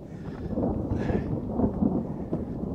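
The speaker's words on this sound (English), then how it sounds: "This thunder though, it's like magic." Deep thunder rolling during a storm on a mountain cliff, a continuous low rumble filling the whole moment, loud and broad with some wind noise, no voices.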